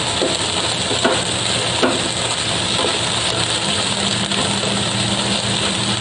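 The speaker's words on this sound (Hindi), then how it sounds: "उसके बाद काला चना और मूंगफली दाना डाल दें और इसको चलाते रहिए।" Black chickpeas and peanuts stirred and frying in a pan, a loud, continuous sizzle with occasional scraping knocks from the stirring.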